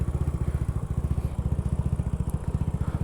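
Honda Ruckus scooter engine running while riding around the block, a close, loud, evenly pulsing single-cylinder thrum with fast regular firing beats throughout.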